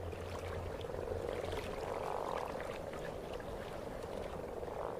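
A chorus of frogs croaks steadily and densely, many calls overlapping in a continuous night-time din, fairly faint and distant.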